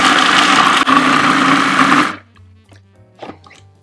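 Food processor chopping carrots whirs loudly and steadily up close for about two seconds, then cuts off, leaving a faint hum and a couple of small clicks.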